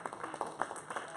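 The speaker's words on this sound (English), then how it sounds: "Y'all give the worship team a hand clap" A church congregation at a Wednesday evening service claps for the worship team, a brief, fairly quiet patter of scattered hand claps in a reverberant room.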